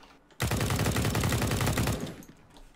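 A rapid burst of automatic gunfire in a competitive match of a shooter video game on the map Nuke rattles for over a second, loud and continuous, then cuts off abruptly.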